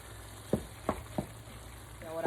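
Chopped cilantro is stirred into a cooked squash filling in a pan, with a soft background sizzle broken by three or four distinct scraping strokes and a brief clatter near the end.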